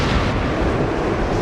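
Rocket explosions in the Reign of Fire video game, a dense, continuous roaring blast with rumbling low end, loud and close throughout the brief stretch.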